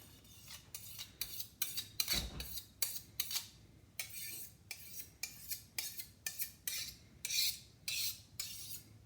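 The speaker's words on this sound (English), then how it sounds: "I'm going to go ahead and wipe off the knife." A knife scraping and clinking on cutlery or dishes while being wiped clean between cuts of a peanut butter and chocolate cheesecake, with a run of short, close, rhythmic scraping strokes and no talk.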